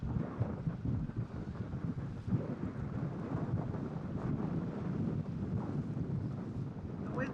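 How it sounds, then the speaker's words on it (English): Strong wind howls and buffets the microphone at a boat anchorage off Mexico, a continuous rough roar with gusty surges, loud and close throughout. "The wind's howling up here."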